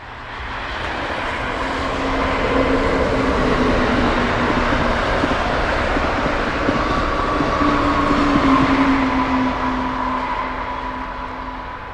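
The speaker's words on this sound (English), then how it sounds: "a westbound Keystone train passes by with an unusual double-headed consist with no cab car and an extra coach" A westbound Amtrak Keystone passenger train, double-headed with no cab car and an extra coach, passes near Harrisburg International Airport in icy weather, its loud steady rumble swelling and then easing over about twelve seconds, with no talking.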